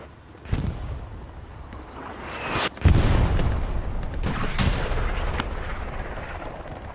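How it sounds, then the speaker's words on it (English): Explosive blasts from a rocket striking a tank amid Hell Let Loose combat: a sharp loud boom near the three-second mark, another burst later, over constant rumbling battlefield noise and distant gunfire. "Like a rocket does hit the 76, or maybe it's the medium tank"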